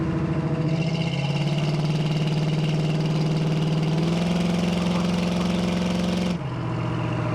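A 1970 Ford Mustang convertible's engine runs steadily and close by with a deep muscle-car drone, its pitch rising slightly partway through before dropping back at the end.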